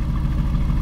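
Straight-piped 2019 Aston Martin Vantage engine idling in track mode with its valves open, a loud, steady low rumble close by with no talking.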